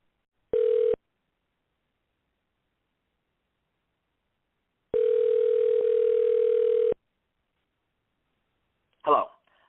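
Telephone line tones while dialing into a voicemail system on a three-way call: a short beep, a pause, then a longer steady tone, followed by a brief burst of a voice at the end.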